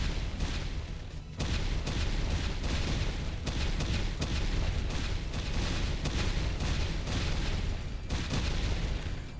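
Continuous, dense barrage of loud explosions and booming blasts in a video game, layered without pause and fairly close, with no voices over it.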